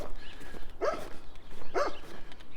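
A dog on a residential street in Regina barks twice, about a second apart, at a moderate distance over faint outdoor background noise.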